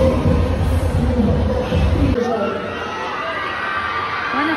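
Large crowd packed inside SM Seaside mall, waiting for Kim Chu to appear: a loud, dense roar of shouting and babble that drops to a lower, steadier hubbub partway through, with voices talking nearby.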